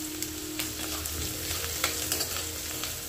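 Green chilies fry in a pan, a steady close sizzle with small crackling pops throughout and no voices.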